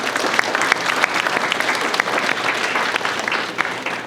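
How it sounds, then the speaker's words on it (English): An audience at a mayoral installation ceremony in Monterey Park breaks into sustained, loud applause, many hands clapping in a dense, continuous patter with a few sharper claps standing out, without speech. "So please, a round of applause for yourselves."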